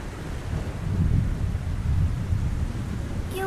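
Cartoon thunderstorm: a low rolling rumble of thunder swells and fades over a steady wash of falling rain, fairly loud and continuous, with no voices.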